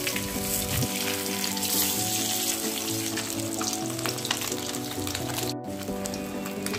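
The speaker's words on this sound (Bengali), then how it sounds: "খুব ভালো করে মাছ ভেজে নিতে হবে।" Pieces of fish sizzle steadily in hot oil in a pan while a dahi katla curry is prepared, a continuous close crackling fry with faint stirring and no voices.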